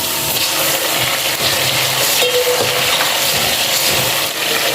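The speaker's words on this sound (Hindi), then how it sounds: "अब हम डालेंगे टमाटर।" Steady loud sizzling and bubbling as chopped tomatoes go into onions frying in a pot for chana dal gosht, a continuous hiss with faint stirring clinks and no talk.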